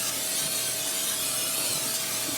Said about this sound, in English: I'm going to spray it with some cooking spray.